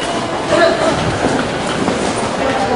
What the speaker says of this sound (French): Le métro est là.